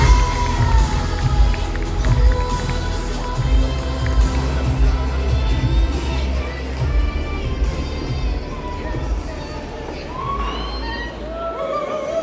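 A large crowd at a Kamo Con 2024 cosplay contest prize ceremony applauds and cheers steadily, a dense roar of clapping and shouts that holds at an even, loud level throughout.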